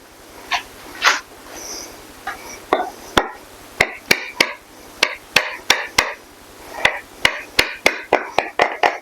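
A knife chops through pulled pork sliders on a board in a steady series of sharp, close taps that speed into a quick rhythm, with a few softer handling noises before the chopping begins.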